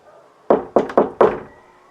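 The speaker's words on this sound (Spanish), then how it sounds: "Toquemos la puerta." Four firm knocks on a door, loud and close: one knock, a short pause, then three more in quick succession, each with a brief resonant tail and no voices.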